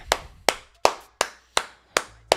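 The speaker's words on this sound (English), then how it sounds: "Everybody clap it up." Hands clap seven times in a steady, evenly spaced rhythm, each clap sharp and close with a short decay, celebrating Shilo Sanders signing with the Tampa Bay Buccaneers; no talking.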